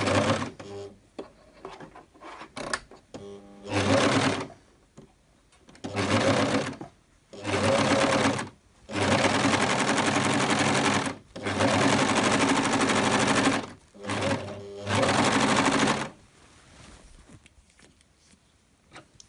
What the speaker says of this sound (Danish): Og så skal vi have syet sømmen hernede fra bunden og ud til ærmerne.